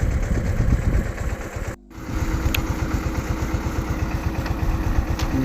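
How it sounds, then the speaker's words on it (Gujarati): A mini tractor engine chugs steadily nearby with a rapid, even putter while spraying a cumin field, briefly cutting out for a moment before resuming at the same pace. "આજે આપણે જીરુમાં દવાનો છંટકાવ કરી રહ્યા છીએ મિની ટ્રેક્ટરથી"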